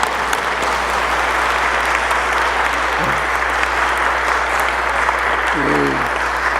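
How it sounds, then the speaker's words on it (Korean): Loud, sustained applause fills a Korean church during a pastor's installation service, a continuous wash of many hands from the congregation with a couple of faint vocal bits rising briefly above it. "박수로 환영합니다."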